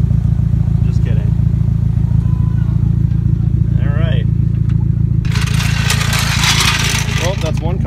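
A modified exhaust on a Nissan S13 or S14 idles loudly and steadily close by, with a deep rumbling drone throughout, while a person briefly speaks and some metallic clatter of tools sounds partway through.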